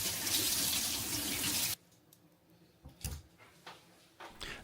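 Canned food is rinsed under a running kitchen tap, the water gushing steadily for under two seconds before shutting off, followed by quiet drips and handling clicks.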